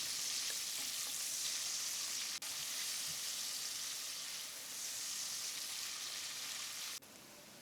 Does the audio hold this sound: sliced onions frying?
yes